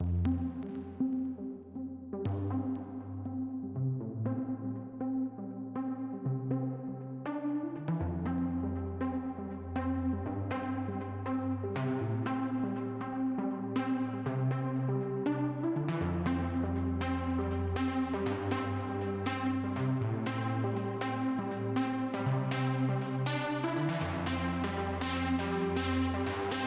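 A synthesizer track plays steadily, layered sustained chords over a pulsing bass line and shifting bright stabs, continuous and full throughout.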